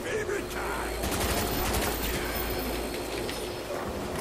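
Gunfire rattles in a Call of Duty Nazi Zombies match (Nacht der Untoten) as zombies are shot, quick bursts of shots over game ambience, with a faint cooing-like background and no speech.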